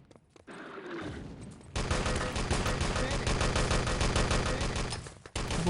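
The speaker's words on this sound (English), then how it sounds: "Nice shooting from H2O." Sustained rapid gunfire from the multiplayer shooter Enemy Territory, played in a competitive grand final on the map Malibu, with dense overlapping bursts rattling continuously after a quieter opening, loud and close under a commentator's voice.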